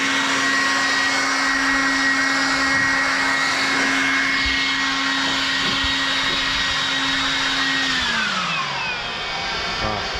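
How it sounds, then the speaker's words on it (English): A Ryobi 18V HP brushless leaf blower runs on its highest setting with a loud, steady, high whining roar held close for several seconds, then its pitch drops as it winds down. "we go with this blower"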